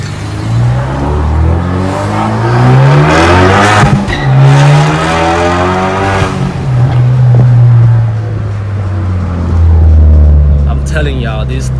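A turbocharged Kia Forte Koup SX with traction control switched off accelerates hard, the engine droning loud and close with steadily climbing pitch through gear changes, while a voice talks over parts of the run.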